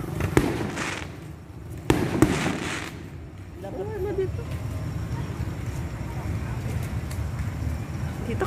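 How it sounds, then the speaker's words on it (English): Fireworks burst at the opening of a town fiesta in Concepcion, with two sharp loud bangs followed by a steady crackling rumble, distant and continuous. "Manood kami ng opening fireworks."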